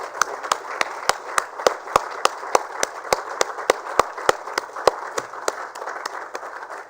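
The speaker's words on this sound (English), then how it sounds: "Let's give a big round of applause to Kendriya Vidyalaya number 1 Roorkee" An audience at a sanitation awards ceremony claps for a winning school, the sound coming as a brisk, steady pattern of sharp, evenly spaced claps lasting several seconds.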